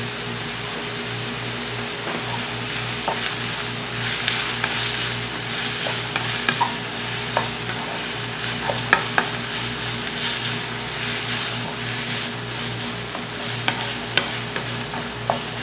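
Onions, salt and a sprig of curry leaves sauté in a pan for an egg curry, giving a steady, close, even frying hiss with scattered soft pops and stirring scrapes throughout.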